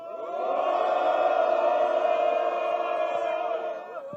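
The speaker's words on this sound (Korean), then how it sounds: "우리 다 함께 응원의 함성 한번 질러보시면 좋겠습니다." Crowd at a political rally in Seoul pressing for a special counsel bill lets out a sustained, loud cheering shout lasting several seconds, swelling quickly and fading slightly at the end, with no speech over it.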